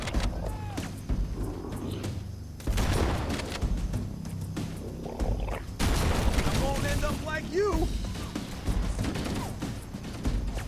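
Shotgun blasts in Halo: Combat Evolved, several sharp booming shots at irregular intervals amid battle noise and mechanical clatter, with voices talking between them.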